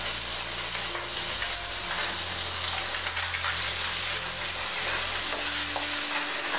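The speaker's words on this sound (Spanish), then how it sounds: "vamos a asar ligeramente los pimientos. Echamos una gotita más de aceite" Bell peppers lightly roasting in oil in a pan beside seafood skewers give a steady, close, continuous sizzle and crackle that holds evenly throughout, with no voices.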